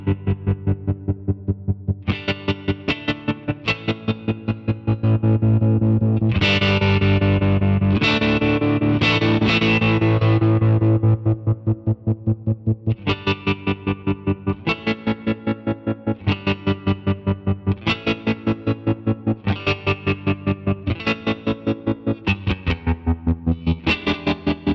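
Distorted electric guitar chords chopped by a tremolo effect into short, sharp rhythmic pulses, with a sustained, denser passage in the middle before the rapid cuts return, no voice.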